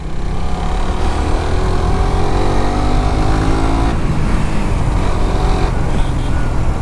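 Suzuki GSX-R motorcycle engine riding along a village road, a loud steady engine drone with a shifting pitch and rushing wind noise, close and continuous.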